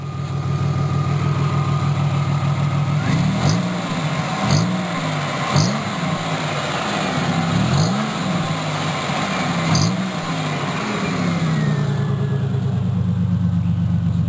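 A 1988 Oldsmobile Cutlass Ciera with a big hole in its muffler idles loudly with a deep exhaust rumble, then is blipped through a series of quick revs before dropping back to a steady, close idle without speech.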